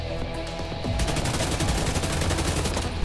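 AK rifle fire in The Division 2's Dark Zone PvP: after a brief lead-in, a loud, rapid automatic burst rattles on steadily and close, with no pause for over two seconds.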